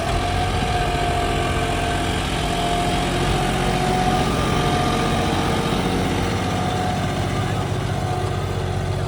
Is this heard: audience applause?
no